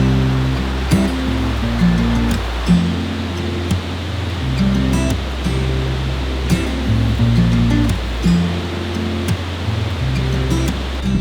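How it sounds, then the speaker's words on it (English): A creek in the Great Smoky Mountains rushes steadily nearby, a broad continuous wash of flowing water heard alone without voices. "Nice creek to listen to."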